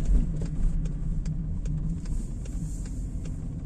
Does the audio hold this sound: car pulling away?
yes